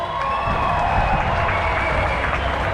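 Crowd applause and cheering at an outdoor freedom march rally, a steady wash of clapping and whoops, fairly distant and even in level, with a hum running underneath throughout.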